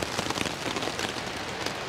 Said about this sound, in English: I'm sure you're going to hear the rain on the tent.